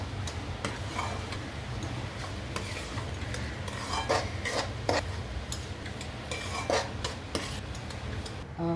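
Roasted green mung flour is stirred in ghee in a large pan for ladoos, giving a continuous low scraping and light ticking over a faint sizzle, with no voices.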